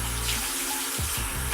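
A bathroom tap runs steadily into a sink to rinse exfoliant off the face, with a broad wash of splashing water and a few brief gurgles near the end.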